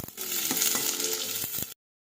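Chopped large onions sizzling and frying steadily in a pan while being sautéed for sambar, a close, continuous crackle with occasional stirring taps, then sudden silence.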